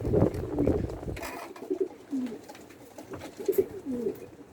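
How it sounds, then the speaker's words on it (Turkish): Bango and Misiri pigeons coo in soft, low bursts, several rounds of throaty warbling close by, with faint rustling between calls and no talk. "Bango ve misirik kuşlarımız geldi."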